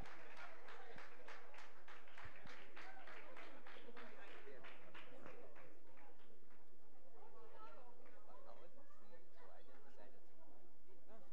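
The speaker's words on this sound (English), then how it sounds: "Please, you can give a round of applause as they majestically move forward." An audience at a send-off ceremony claps in a faint burst of rhythmic applause that fades into scattered chatter, the whole scene quiet and distant.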